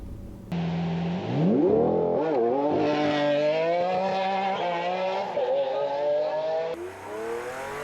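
Lamborghini launching hard, the engine note climbing steeply and then stepping through several quick gear shifts, each shift a brief dip before the loud, raspy roar rises again, close and sustained throughout.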